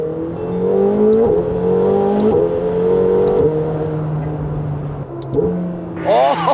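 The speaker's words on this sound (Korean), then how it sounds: "스포츠 모드에서는 또 이런 정말 다이나믹한, 정말 고급진 다운시프트 때도 마찬가지예요" A McLaren 750S supercar in sport mode blips its engine through a series of rapid downshifts, each one a sharp rising rev followed by a settling drone, loud and close, ending with a higher revving burst.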